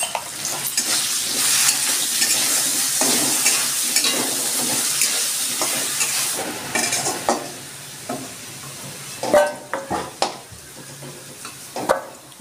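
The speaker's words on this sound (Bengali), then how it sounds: "আমার আলুটা ভাজা হয়ে গেছে" Potatoes fry in a pan with a little salt and turmeric, a busy sizzle broken by stirring scrapes and sharp clinks of the spatula against the pan, close and without talk.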